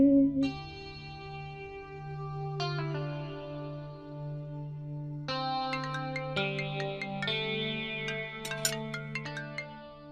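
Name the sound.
phone ringtone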